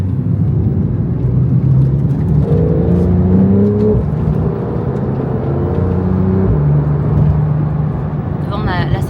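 Engines of a supercar convoy, including an AC Cobra replica, a Porsche Macan GTS and a Cayman, warm up while driving on the road. A loud, close engine drone rises and falls with revs, and a brief high chirp sounds at the end.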